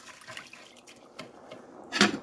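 A pot of water with butter, rice and seasoning mix heating on the stove toward a boil gives off faint, sparse bubbling and watery ticks, ending in a louder brief splash-like burst.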